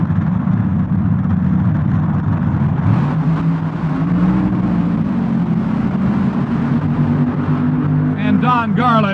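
Loud engine roar from 1975 NHRA World Finals drag racers launching off the line in a side-by-side pass, a heavy sustained drone with shifting pitch sweeps as they pull away, crowd and track ambience throughout.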